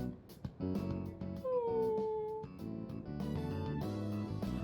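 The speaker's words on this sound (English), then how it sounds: "It's another episode of that docu-series about a wolf pack." Wolf pack sounds from a TV documentary inside the Persona 3 Reload video game: a rising, drawn-out howl-like cry and whimpering over soft background music, moderately loud.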